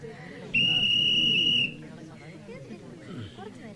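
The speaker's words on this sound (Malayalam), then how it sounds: "ചെവിടെ അണ്ണാക്കി കൊണ്ടുവന്നാണ് വിസിൽ അടിക്കുന്നത്" A loud, sharp whistle blown in a single sustained blast of about a second, standing out clearly over background voices and morning garden sounds, then cutting off abruptly.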